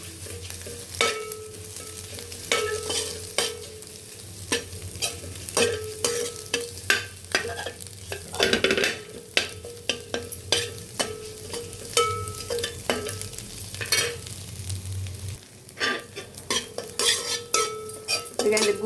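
Egg frying in a pan while being stirred with turmeric and salt, a steady sizzle under repeated scraping and clinking strokes of a spoon against the pan, continuous and close.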